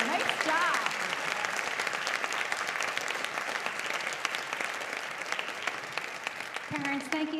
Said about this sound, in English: I think we need one more huge round of applause